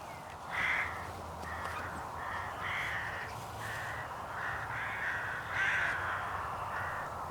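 Magpies and crows calling in a frenzy, a run of harsh, repeated caws and chatter from several birds at moderate distance, overlapping against a faint outdoor background.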